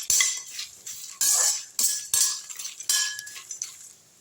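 Spices dry-roasted in a pan for homemade chaat masala powder, stirred with a metal utensil; sharp clinks and scrapes come in irregular bursts, close and fairly loud, with no talking.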